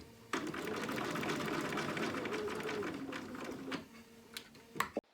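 A sewing machine runs in a steady whir while stitching around a small dog outfit, then slows and stops near the end with a few clicks and a short rattle.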